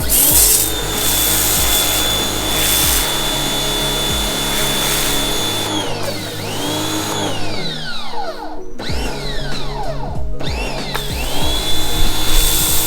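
A powered cleaner blasts ingrained dirt off a patio with a loud, continuous motor hiss and spray. The pitch swoops and dips as the load changes, and the cleaning runs on steadily without speech.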